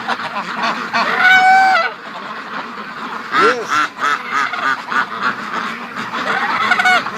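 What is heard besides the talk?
Brant geese honking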